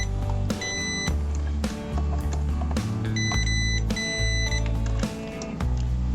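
A multimeter sounds its continuity beep while probing the switch of a coffee maker under repair: several steady electronic tones, some long and some short, start and stop over a low background hum.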